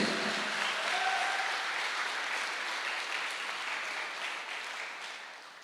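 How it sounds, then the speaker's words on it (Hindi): A seminar audience at a business-planning workshop gives a loud round of applause, a thick, continuous patter of many hands that gradually thins and fades toward the end. "तो हो जाए एक जोरदार तालियां मिस्टर अभिषेक जी के लिए"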